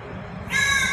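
A crow caws loudly and close in one harsh, sustained call that swells halfway through and stays strong to the end, with nothing else heard.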